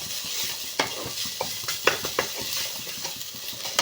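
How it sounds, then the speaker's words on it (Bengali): Ginger and green chilli, finely chopped, stirred in a frying pan with curry leaves, sizzling steadily while a spoon or spatula scrapes and clinks against the pan several times, close and alone. "এর মধ্যে দিয়ে দেব আদা কুচি, কাঁচা লঙ্কা কুচি, দিয়ে একটু নেড়ে দেব।"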